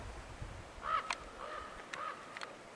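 Crow calling outdoors in a canyon, a few short harsh caws spread over a couple of seconds, moderately distant against quiet open-air background.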